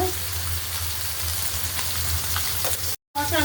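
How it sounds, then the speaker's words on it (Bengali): Ground coriander, cumin, turmeric and chilli powder fry in hot oil with a steady, close sizzle throughout, broken by a brief cut just before the end. "তেলের উপর দিলাম ধনে জিরা হলুদের গুঁড়া"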